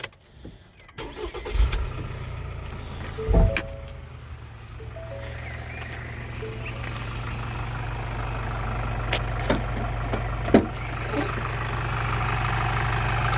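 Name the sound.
van engine starting and idling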